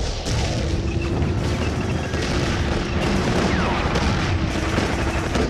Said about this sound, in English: Support fire for the first wave.